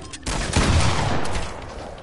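Gunfire in the video game Fortnite rings out as a dense burst of rapid shots right after a brief pause, loud and close, then tails off over about two seconds.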